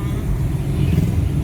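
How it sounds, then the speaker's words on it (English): A car driving on a road in Jamaica, heard from inside as a steady low engine and road rumble, fairly loud and unbroken, with no speech. "Still driving on the road."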